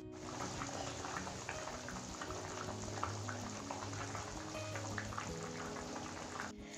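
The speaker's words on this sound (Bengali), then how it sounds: "আর মাছের ঝোলটাও কিন্তু ফুটে এসেছে" Fish curry bubbling in a pot on the stove, a steady low simmering burble that stays even and quiet throughout.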